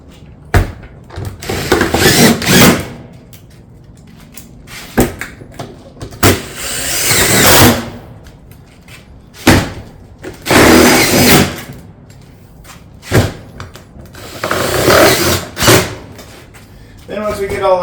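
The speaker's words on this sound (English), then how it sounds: "Then we can come back and fasten the panels with our normal fastening pattern." A power tool fastens shake-style siding panels with a normal fastening pattern, giving a series of sharp, loud bursts spaced a few seconds apart with short pauses between.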